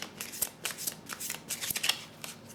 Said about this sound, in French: je vais prendre une carte de l'archange Michael pour savoir quel est le conseil